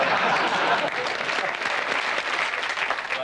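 Studio audience at the snooker game show Big Break clapping for the yellow team in 1991, a dense, even roar of applause sustained at full strength from start to finish with no voices breaking through.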